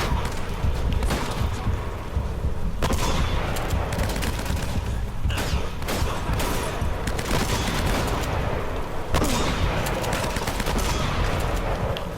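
Heavy, sustained gunfire from the video game Uncharted: Drake's Fortune, with rapid overlapping bursts and booming shots, loud and continuous throughout with no voices.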